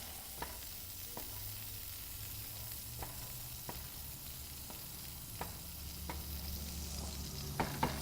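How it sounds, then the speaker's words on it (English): Linguine being stirred in a pot on a stove turned down to medium-high, with soft scraping strokes repeating every second or so over a steady low simmer, close and fairly quiet, with no talking. "Stir our linguine."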